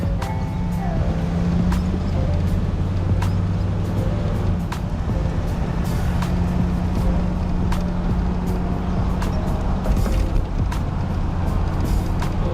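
A 1979 Chevy El Camino with a 700R4 transmission driving along, steady engine drone and road rumble with a tone that drops partway through as the gearbox shifts, plus intermittent clicks and knocks inside the cab.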